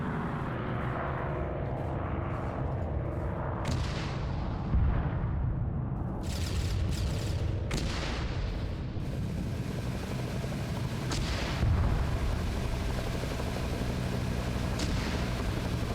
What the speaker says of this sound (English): Now we're going to begin the barrage.